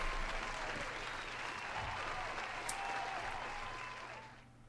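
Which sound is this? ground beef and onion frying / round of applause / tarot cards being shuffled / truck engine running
round of applause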